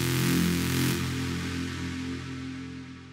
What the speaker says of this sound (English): So first, we'll go ahead and look at this noise bass layer